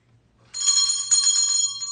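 A small bell rung repeatedly in rapid succession, bright metallic ringing that starts abruptly and sustains near and loud with slight pulsing, over a faint low hum.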